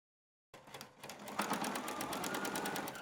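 A sewing machine stitching along the fold of a coat hem starts abruptly after a moment of silence and then runs in a steady rapid whir, close and alone.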